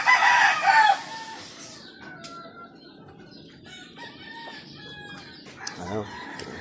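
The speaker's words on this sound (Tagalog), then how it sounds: "Damo na yung manok." Chickens and roosters at a game farm in Canlaon, Negros Oriental: a loud burst of clucking up front, then repeated crowing calls at middle distance over a steady background of barnyard bird noise.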